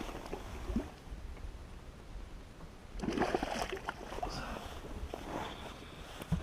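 A large bass, about six pounds, is let go from a boat on Lake Berryessa, with a close burst of splashing and sloshing water after quiet lapping and wind.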